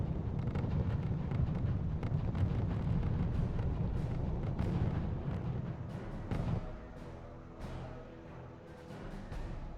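Artillery fire in the strategy video game RUSE comes as rumbling, low booms layered over a constant wash of battle noise, with sharper cracks scattered through and a quieter stretch near the end.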